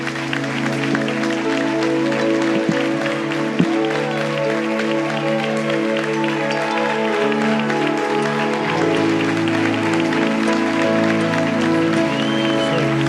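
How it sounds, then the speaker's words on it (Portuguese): A church congregation applauds through a sustained musical backdrop of held tones, the clapping a dense, even wash that carries on for the whole stretch. "pode aplaudir mais alto aí, querido"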